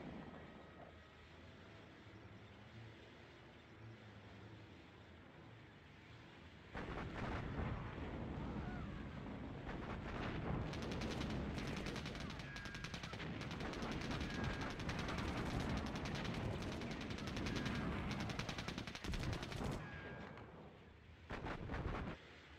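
Artillery fires in a video game: after a quieter stretch, a dense barrage of heavy booms and blasts rolls in and continues almost without pause, loud and rumbling, then breaks off near the end.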